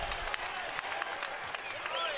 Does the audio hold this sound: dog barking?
no